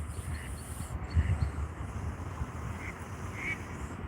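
Ducks quack faintly out on the water, a few short calls spread across a quiet outdoor scene with low rumbling background noise.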